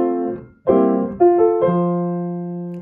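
A piano plays a slow passage from Beethoven's Für Elise with grace notes, a few clear, sustained notes and chords struck one after another and left to ring, close and alone.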